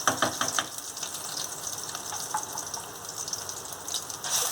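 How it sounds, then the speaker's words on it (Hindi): Half a tablespoon each of chili paste and garlic paste hit hot oil, bursting into a bright, splattering sizzle at first that settles into a steady hiss, close by. "अब मैं डालूंगी 1/2 टेबलस्पून मिर्ची पेस्ट और 1/2 टेबलस्पून गार्लिक पेस्ट।"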